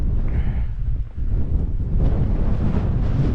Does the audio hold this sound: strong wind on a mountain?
yes